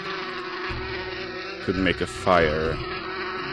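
Honeybees buzzing at a beehive in the video game Inherit the Earth, a steady insect drone running throughout with brief louder swells, under a short bit of speech.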